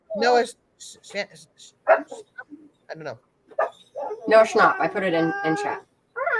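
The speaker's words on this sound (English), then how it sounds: "Sorry about my dog." A pet dog, a female, barks and yips in repeated sharp bursts close to the microphone, interrupting and overlapping a casual conversation among several people.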